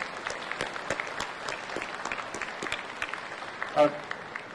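An audience at a hurricane workshop in Houston applauds the local forecast office organizers, a steady wash of many hands clapping with a few sharper claps standing out and one louder burst near the end.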